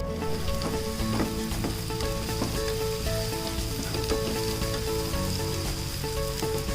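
Onion with ginger-garlic paste sautés in a pan, giving a steady close sizzle and crackle broken by occasional scraping stir strokes, with no voices throughout.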